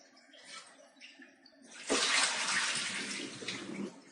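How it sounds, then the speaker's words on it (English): Water rushes through an Enagic Kangen water ionizer as it is flushed out, starting as a faint trickle then surging into a steady, loud gushing flow that continues to the end. "you just turn it on and let the water flush out everything"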